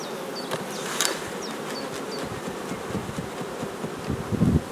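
Honeybees shaken from hive frames buzz all around, a dense steady drone with individual bees zipping close by.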